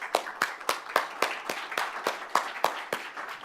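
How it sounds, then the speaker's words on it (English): Audience at a human rights forum panel claps in a steady, evenly spaced rhythm, sharp individual hand claps repeating about every quarter second, moderately loud with no talk over them. "Let's have a round of applause"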